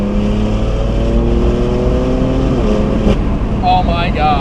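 A BMW M4 fitted with a Stage 2 exhaust revs and accelerates on a wet road, its loud, rising engine drone heard from inside the car, with a voice joining near the end.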